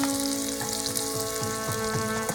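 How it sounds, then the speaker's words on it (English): Chopped onions and curry leaves fry in hot oil for poha, a dense steady sizzle with faint crackles throughout, close and unbroken, with no voices. "When they splutter, add curry leaves. Add chopped onions."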